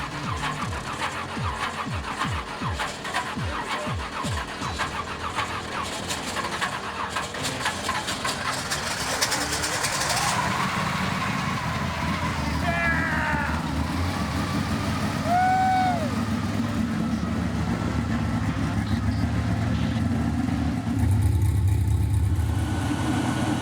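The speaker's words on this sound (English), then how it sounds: "We're gonna clean these out and put them on the motor and fire it." Barn-find Pontiac Firebird engine cranking with a rapid starter chug, then catching and roaring up into rough, loud revving and idling, close by, with people talking over it.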